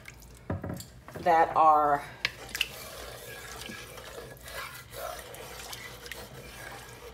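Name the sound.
pouring beef cooking liquid into soup pot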